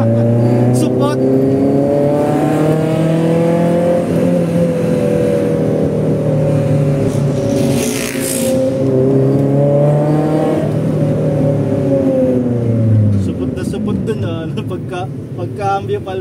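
A Honda Civic EG's engine revs and pulls through the gears on a test drive after clutch work, rising and falling in pitch as it accelerates, loud and close from inside the car, with a brief whoosh partway through.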